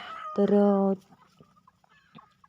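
A single loud, harmonic squawk from a rooster, close by, followed by faint scattered clucks and quiet background noise.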